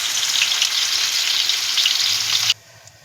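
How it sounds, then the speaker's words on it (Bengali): Flour-coated fish frying in hot oil in a wok gives a loud, continuous crackling sizzle that stops abruptly, leaving near silence. "আমাদের মাছ ভাজাটা হয়ে গেছে"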